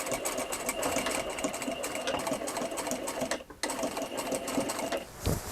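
A sewing machine stitches a corset with a fast, steady mechanical chatter close up, briefly pausing once before resuming and ending with a soft thump.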